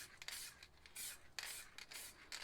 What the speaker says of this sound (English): Now we'll move on to a low pressure spray paint.